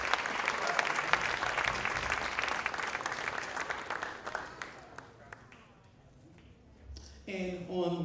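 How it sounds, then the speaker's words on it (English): A jazz lab band audience gives a graduating senior bass player a strong round of applause that gradually dies away, then a voice speaks into the quiet that follows. "Let's give him a round of applause, graduate."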